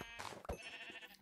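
A Minecraft sheep gives a short, close bleat, a brief nasal cry heard on its own, no talking.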